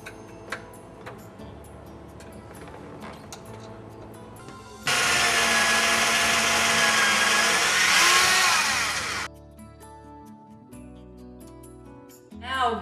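A power drill bores mounting holes for an AquaPure DWS1000 water filter inside a kitchen cupboard, a loud, steady whine lasting about four seconds between quieter ticking and rattling handling noises.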